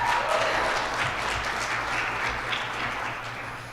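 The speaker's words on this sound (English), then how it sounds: "snaps and applause for these things is certainly appropriate" An audience at a student government State of the Association address breaks into sustained, even applause mixed with snapping fingers, a full crowd sound holding steady throughout.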